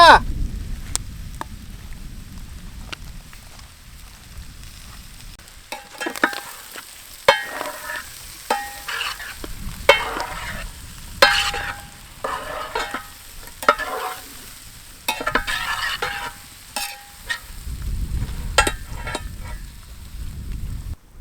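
Mutton boti fries in a pan, sizzling steadily while a utensil stirs and scrapes in repeated clattering bursts. Heavier frying noise swells near the start and again at the end. No voices are heard.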